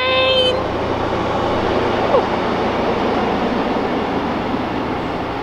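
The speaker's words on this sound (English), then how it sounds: "Train!" A train passes near the Chirk Aqueduct with a steady, loud rumble that holds for several seconds, and a brief shrill tone sounds at the very start.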